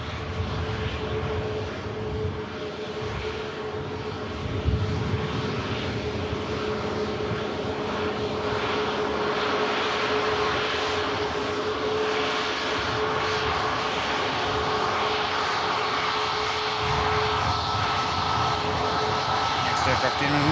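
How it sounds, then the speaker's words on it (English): An EasyJet A320neo airliner arriving from Funchal produces a long, steady engine roar that holds at a constant level throughout, with a faint high whine running through it. "Aircraft in another Neo of EasyJet coming from Funchal."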